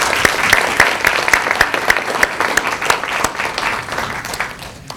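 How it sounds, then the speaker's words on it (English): Audience applause for award recipients at an awards ceremony, a steady round of crowd clapping with sharp individual claps standing out, sustained throughout. "give one more round of applause and congratulate our award recipients one more time"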